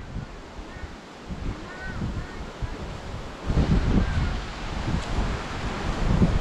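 Wind blows outdoors at a building site where a pallet pigsty is being made, a steady rushing roar that gusts louder midway and buffets the microphone.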